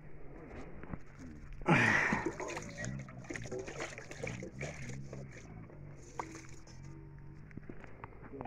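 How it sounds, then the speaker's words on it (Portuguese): Water is poured to rinse a bowl, giving a short splashing gush near the start that fades into quieter trickling and handling sounds, with soft voices in the background. "Passar uma água na nossa tigela."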